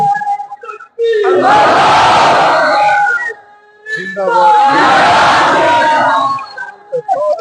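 At an urs gathering honouring a Chishti pir, a large crowd bellows a religious slogan in unison, two loud massed shouts separated by a short pause, with a lone voice leading before each.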